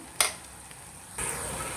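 Onions frying in a pan as salt is added: a quiet, steady sizzle with a brief sharp scrape near the start, then the hiss swells and stays louder.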